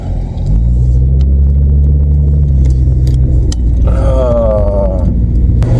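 A VW Vento engine rumbles low and close as the car drives around a roundabout after gearbox repair, with light clicks and a brief rising whine partway through.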